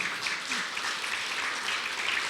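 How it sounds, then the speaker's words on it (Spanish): Church congregation applauding, a steady wash of clapping from many hands throughout with no break. "Démosle ese aplauso al Señor."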